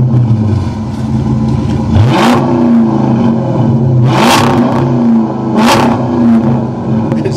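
Chrysler 300 SRT8 V8 with an aftermarket exhaust idling with a deep burble, then revved three times in sharp, loud bursts that fall back to idle; close by, with no talk.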